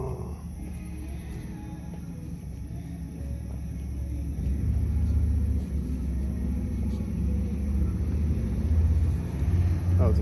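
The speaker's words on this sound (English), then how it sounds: "That was a motorcycle." A motorcycle passes on a road near an intersection, its low engine rumble swelling about midway through and staying heavy and close for several seconds before easing slightly.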